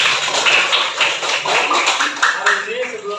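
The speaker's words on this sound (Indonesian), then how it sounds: "Tepuk tangan buat kita semua." A classroom of students claps hands together in an energetic cheer, dense overlapping claps filling the space with voices mixed in throughout.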